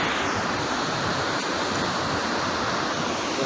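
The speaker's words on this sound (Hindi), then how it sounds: "खूबसूरत झरना।" Steady, dense roar of a waterfall beside a mountain trekking path to Kedarnath, heard as unbroken broadband rushing water that stays loud and even throughout, with no voices.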